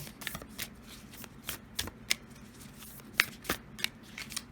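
Tarot and oracle cards being shuffled by hand in a quiet room, a run of soft irregular riffles and snaps, close and fairly faint, with no talking.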